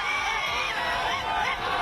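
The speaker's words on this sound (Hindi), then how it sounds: "बीजेपी कार्यकर्ताओं की भीड़ सड़कों पर दिखी" Crowd of BJP workers celebrating an election victory in the streets, a dense, continuous roar of voices and cheering heard briefly and fairly close.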